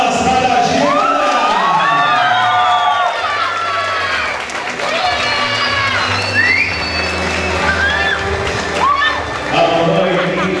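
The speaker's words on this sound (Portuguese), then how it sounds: "a sua noite e as palmas para a Giovana!" Guests at a fifteenth birthday party applaud and cheer in a loud, continuous swell, with voices and shouts mixed through the crowd noise.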